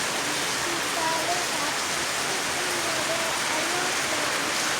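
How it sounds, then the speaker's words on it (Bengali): Morning rain pours in a steady, dense hiss that holds evenly from start to finish, with faint voices barely audible underneath. "মামুর সঙ্গে ঘুম থেকে উঠে বৃষ্টি দেখছে"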